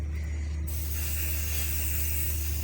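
A spray paint can hisses steadily while coating a fascinator, a short rattle or click at the start giving way to a continuous close, quiet spray.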